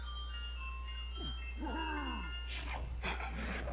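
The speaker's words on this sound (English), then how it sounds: "I don't know if the people heard it, but the cop car came by" A police car siren wails past, its rising and falling tones sweeping through before a louder burst of traffic noise near the end, heard over a steady low hum with no talking.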